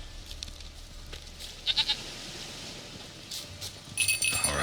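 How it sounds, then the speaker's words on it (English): A goat in The Witcher 3 video game bleats in a short wavering burst, then again later alongside a bright jingling, over a steady low ambient game backdrop. "Hoofed and horned. Should have known it would be stubborn."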